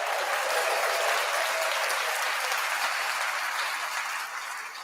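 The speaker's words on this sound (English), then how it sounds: "Nice big round of applause." A live audience gives a warm round of applause during a morning show, the dense clapping steady and close throughout before easing slightly at the end.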